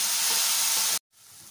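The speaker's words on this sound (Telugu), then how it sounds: "ఈ టమాటా ఫ్రై అయినాక చింతపండు వేసుకోవాలి. ఈ చింతపండు కూడా బాగా ఫ్రై చేసుకోవాలి." Tomato and tamarind fry in a pan with a loud, steady hissing sizzle for about a second. It cuts off abruptly, then a fainter sizzle returns.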